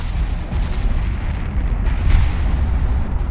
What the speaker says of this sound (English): 9 forward-firing 18-inch guns, and yes, they fire over the top of each other